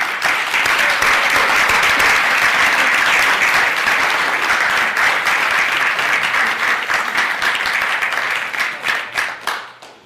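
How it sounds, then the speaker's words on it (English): Loud, sustained audience applause welcoming a guest speaker, a former FBI bureau chief, dense clapping filling the room before tapering off toward the end. "let's give this gentleman a warm round of applause."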